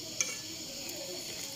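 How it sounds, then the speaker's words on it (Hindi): Milk tea coming to a boil in a pot on the stove, giving a steady, soft bubbling hiss with a faint clink near the start and no talking. "अब जो चाय है वो उबल रही है, पक रही है।"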